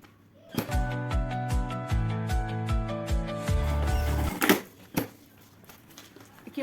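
A sewing machine stitches a fabric lining in quick rhythmic bursts of mechanical whirring and clicking, then stops, leaving a few handling thumps and rustles.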